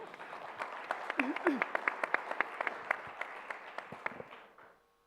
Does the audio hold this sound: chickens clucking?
no